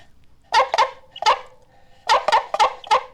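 A sound-effect gadget imitates a dog barking: two sharp barks, a lone bark, then four quick barks in a row, loud and close.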